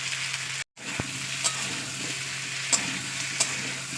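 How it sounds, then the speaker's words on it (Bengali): Taro (kochu) frying in oil, a steady close sizzle with a few light scrapes and taps of a stirring utensil and one brief dropout near the start. "তো দেখতে পেয়েছি আমার প্রায় 5 মিনিট হয়ে গেছে ভাজা করছি"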